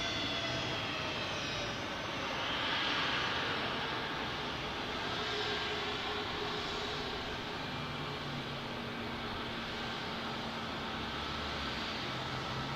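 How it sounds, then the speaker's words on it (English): Cessna 208 Caravan single-engine turboprop landing at San Diego airport, a steady broad engine roar at moderate distance that holds throughout with a slight swell early on, no talk. "Everybody waiting on the 208 Caravan. Let's see if they touch down right at the threshold bars."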